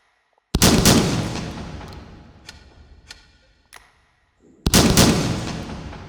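Two loud blasts from a break action shotgun in the VR game H3VR, a few seconds apart, each with a long decaying boom, with faint mechanical clicks of the action between the shots.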